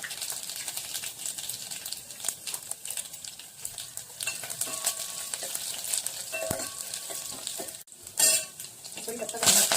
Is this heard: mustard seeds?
yes